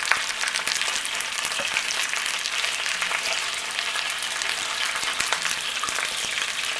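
Oxtail sears in a hot pan with a continuous broadband sizzle and crackle that holds steady throughout. Faint pops and small clicks come through, with no voices.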